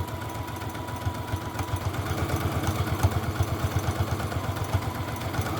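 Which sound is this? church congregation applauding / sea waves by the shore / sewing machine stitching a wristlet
sewing machine stitching a wristlet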